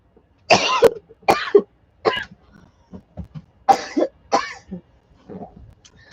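Someone coughs in a series of harsh, close bursts with some throat clearing mixed in, loud and uneven, with short pauses between the fits and no speech.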